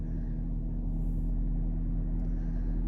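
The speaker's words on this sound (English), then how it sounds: "Let's see if this shuts off now that I turned the car on." A car's engine idles steadily just after being started, a low, even rumble with a constant hum, close by and without talk.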